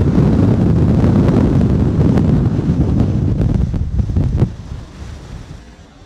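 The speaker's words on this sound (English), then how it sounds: "And that wind is intense." Strong wind roars across frozen Lake Erie ice, buffeting the microphone in a loud steady rush that holds for several seconds, then drops away to a softer gusting.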